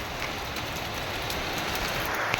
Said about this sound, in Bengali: বৃষ্টি পড়ছে এইভাবে